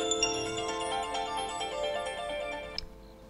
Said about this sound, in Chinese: 手机响了。